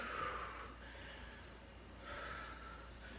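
Heavy, controlled breathing after a karate workout, slow audible inhales and exhales in two long swells, close but faint with no talking.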